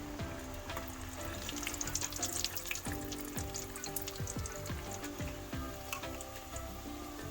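A homemade snack deep-frying in hot oil until reddish gives a steady, close sizzle with scattered crackling pops and a few soft clinks, with no talking.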